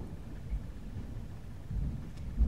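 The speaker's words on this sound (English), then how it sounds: "My apologies if you're hearing the thunder in the background." Distant thunder rolling low and soft during an indoor hardcover book corner repair, faint rumbles swelling a few times beneath quiet room noise.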